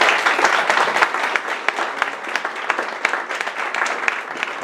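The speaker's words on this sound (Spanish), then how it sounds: "Un fuerte aplauso para don Rubén Cigarra." A live audience at a Spanish-language book presentation applauds a speaker being introduced, with dense, steady clapping that carries loudly through the whole stretch, crisp individual claps standing out now and then.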